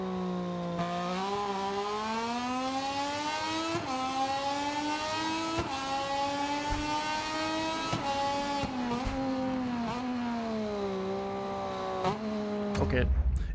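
Motorcycle engine revving in the MotoGP 24 racing game, a loud continuous whine that rises and falls through gear shifts over about thirteen seconds, with brief dips at each shift and a louder low rumble at the end.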